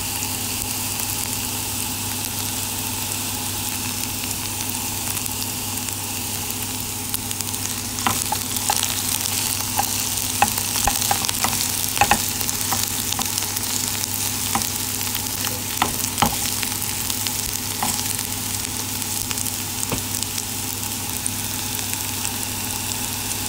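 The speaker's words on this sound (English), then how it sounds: "will start sizzling inside the pan because of the hot oil" Chopped onions frying in hot oil in a pan while being stirred, a steady close sizzle with scattered crackles and scraping stir sounds, no speech.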